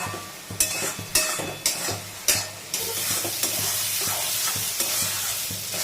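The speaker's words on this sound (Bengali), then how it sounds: "নাড়তে হবে" A spoon stirs pointed gourd and prawn curry in a hot pan: several sharp scraping strokes in a steady rhythm over a sizzle, which then settles into continuous close frying hiss.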